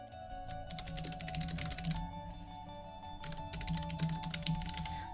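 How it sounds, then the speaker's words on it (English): Computer keyboard keys clatter in quick, irregular bursts of typing, fairly close and moderately loud, with brief pauses between runs of clicks. "Get to listen to my keys go click clack."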